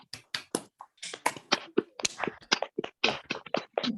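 Online participants applaud speakers over open microphones at the end of a talk on domestic violence; scattered, uneven hand claps from a few people, close and dry, with gaps between bursts.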